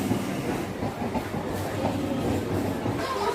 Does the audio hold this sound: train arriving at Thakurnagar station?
yes